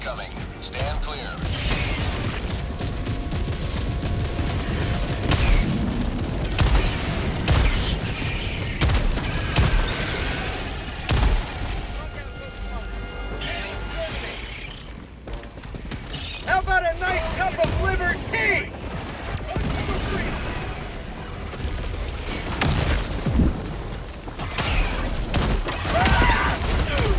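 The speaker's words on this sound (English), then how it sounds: "Orbital barrage incoming. Stand clear." Orbital barrage strikes in the Helldivers video game, a long stretch of heavy booming impacts and crashing blasts over wind-like rumble, with voices talking throughout.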